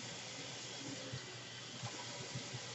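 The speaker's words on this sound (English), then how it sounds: "Drain those mushrooms." Liquid from canned mushrooms draining steadily in a continuous watery rush, faint and even, with a few soft bumps beneath it and no speech.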